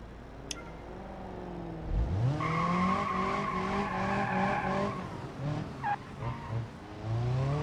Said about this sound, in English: Careful about my drifting now